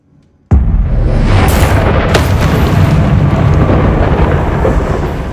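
Confringo blasting spell explosion in the Hogwarts Legacy video game, a sudden loud boom after near silence that rolls into a sustained, heavy rumble, slowly easing over several seconds.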